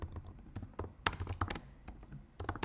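Typing on a computer keyboard while entering data into an Excel spreadsheet: a quick, irregular run of close, crisp key taps with brief pauses between bursts.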